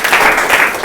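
Audience applause at a motivational talk, a dense continuous wash of many hands clapping at steady loudness throughout, with no talk over it.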